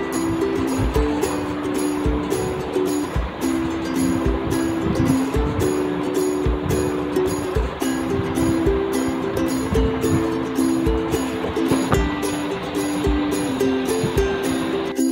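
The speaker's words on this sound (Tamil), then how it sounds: "இந்த பாத்திரத்தில் இருக்க காய்கறி எல்லாத்தையுமே நல்லா அலசி வாஷ் பண்ணி எடுத்துக்கலாம்" Vegetables are rinsed by hand in a basin of water, with steady splashing, sloshing and clattering up close, a constant busy churn with a faint tonal hum underneath.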